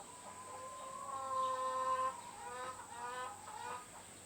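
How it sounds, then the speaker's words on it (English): Backyard chickens clucking nearby, a few drawn-out, warbling calls rising and falling over a faint steady hum, with no voices. "I think my chickens are laughing at me."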